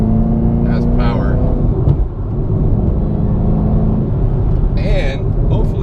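Camaro ZL1 1LE engine rumbling loudly and steadily from inside the car while driving, with a voice speaking over the drone.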